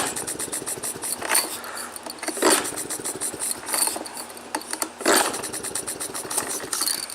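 A Maytag model 72 washing machine's small petrol engine sputters and tries to start, giving uneven popping bursts and rapid ticking close by, with no voices.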